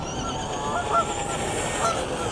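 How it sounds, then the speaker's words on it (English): Geese honk loudly nearby in a steady stream of overlapping calls, heard outdoors where a Traxxas Stampede radio-controlled truck is being run. "Even the geese are cheering it on."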